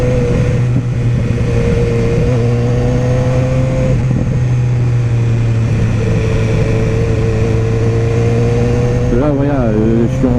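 BMW S1000R motorcycle fitted with an Akrapovic exhaust, accelerating on the road at about 4,000 rpm: a steady, loud engine drone with rising harmonic tones, climbing in pitch near the end, with someone talking over it.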